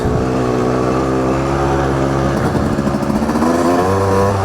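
A dirt bike engine revs loudly and close on a trail loop, its pitch climbing and shifting with throttle changes throughout, with no talk.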